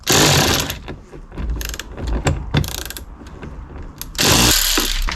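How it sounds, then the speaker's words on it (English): A 7mm bolt is worked out of the door handle trim on a Jaguar XE with a ratchet, giving loud, rapid clicking bursts at the start and end with irregular ticks and clatter between them. "I think it's a 7mm bolt. So you just gotta take that out."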